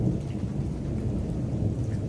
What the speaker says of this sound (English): the rain's kind of stopped, but the thunder has not stopped